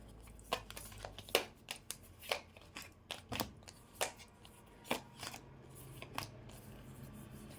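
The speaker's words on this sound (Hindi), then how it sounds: "I am just going to shuffle it again" Tarot cards shuffled by hand in a quiet room, giving a series of crisp, close ticks and riffling snaps in an irregular rhythm, with no talking.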